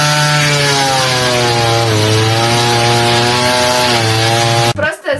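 A chainsaw cuts through a tree branch in an advertisement, its loud, steady high-pitched engine whine running continuously before stopping abruptly near the end.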